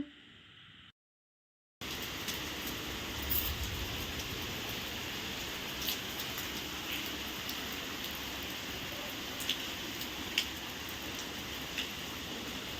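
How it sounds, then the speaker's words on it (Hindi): Light rain falling outside a home in India, a steady soft patter with scattered faint ticks of drops on surfaces, continuous after a brief silent gap at the start. "हल्की हल्की बारिश"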